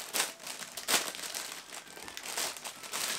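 A new Travel Digital Bag being opened, with crinkling, rustling packaging and sharp crackles at irregular moments, close and fairly loud, continuous handling throughout.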